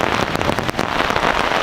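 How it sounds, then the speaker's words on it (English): Rain pattering steadily on camp tarps at a campsite, a dense, close, continuous patter of drops with no pauses and no voices. "It's raining."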